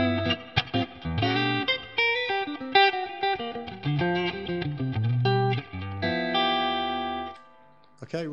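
An electric guitar through a One Control reverb effect plays a quick melodic phrase with notes ringing into a reverberant wash, ending in a short pause and a final note.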